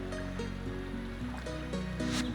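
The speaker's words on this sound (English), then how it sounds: "The gentle rippling of the water, the sway of the branches." Gentle rippling water in the cozy farming game Fields of Mistria, a soft continuous lapping wash beneath calm sustained background music, with no talk.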